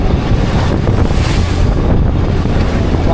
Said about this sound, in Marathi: वादळ जोराने सुटलेलं आहे वादळ मित्रांनो बघा.